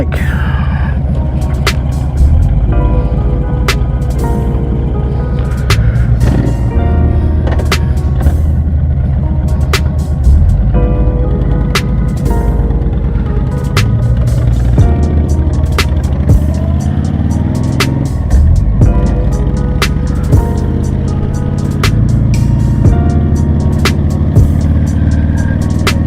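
A 2007 Honda VTX 1300 motorcycle rides along a road with a loud, continuous engine rumble and wind roar, its pitch shifting as it changes gears, with intermittent clicks and rattles.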